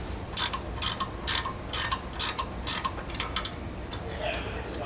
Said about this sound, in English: we're going to grab our 15mm wrench and get those out of there